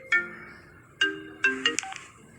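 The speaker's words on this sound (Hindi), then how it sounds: "बार बार बजते हुए फोन से उसकी आंख खुली।" A phone ringtone sounds repeatedly in a quiet room, several short melodic bursts in succession, close and clear with no talking.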